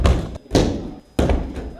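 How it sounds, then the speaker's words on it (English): Judo throws land on the mat in a university fieldhouse training room: three heavy, loud slams separated by brief pauses, with each impact ringing briefly in the room. "you can hear the sound of loud slamming coming from room 481"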